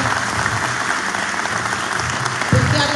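Loud, dense applause from a crowd honouring parents and siblings, sustained clapping that swells slightly near the end.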